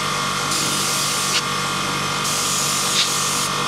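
Aerosol spray blasts hiss inside a desktop PC near the graphics card during cleaning, loud and close, a steady rushing hiss broken into a few long bursts with brief pauses.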